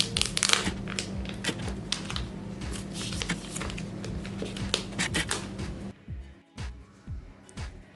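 Packaging of an iPhone SE 2020 Black Edition box crinkles and crunches while being unboxed, with close, busy rustling and crackling bursts that thin out into a few separate clicks and scrapes near the end.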